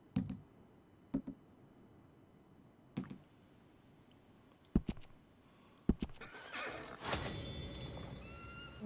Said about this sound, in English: We'll need to go on a horse.